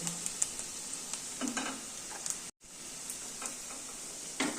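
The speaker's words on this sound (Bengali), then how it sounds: "পেঁয়াজগুলো লাল লাল করে ভেজে নিচ্ছি" Chopped onions fry in a pan until reddish-brown while a tilapia fish curry (macher jhol) is being prepared. The sizzle is soft and steady, with faint ticks and stirring, one very brief dropout, and no speech.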